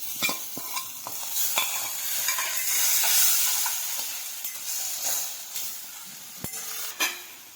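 Tomatoes go into a pan of frying garlic and onion, bringing a swelling hiss and sizzle with scraping and stirring knocks throughout.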